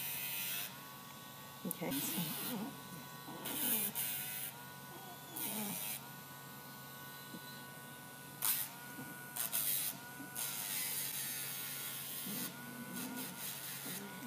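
A Dremel rotary tool on low speed trims a pet's nails in short intermittent bursts, a steady buzzing motor that starts and stops repeatedly under nearby talk.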